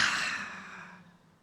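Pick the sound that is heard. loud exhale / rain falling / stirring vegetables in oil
loud exhale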